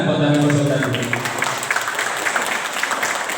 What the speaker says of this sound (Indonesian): Tepuk tangan buat RW